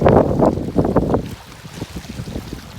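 Strong wind blows at the seaside over rough, wavy water, loud gusts buffeting the microphone in bursts that ease off after the first second or so.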